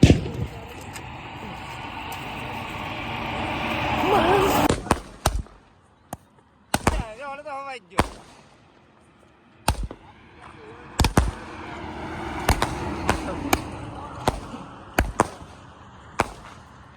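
Diwali firecrackers at Diu go off in a series of sharp, loud bangs at irregular intervals, with crackling bursts between them and voices in the background.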